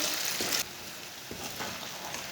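Taro (arbi) roasting in a pan, a steady broadband hiss of frying with a louder sizzling burst at the start and soft stirring scrapes through the rest, close by.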